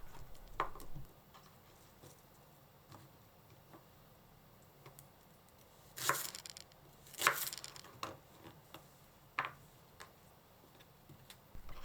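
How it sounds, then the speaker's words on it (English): A knife chopping green onions into short lengths on a cutting board, a few sharp scattered taps with quiet gaps between them. "Cut green onions into 2 cm length."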